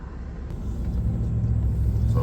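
A freshly washed truck rolls slowly along a gravel road near Knoxville, giving a low steady engine rumble with road noise that swells slightly as it moves.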